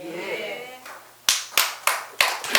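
Applause from an audience at a Buddhist dharma lecture: after a moment of speech, five sharp, evenly spaced claps ring out in unison, loud and close.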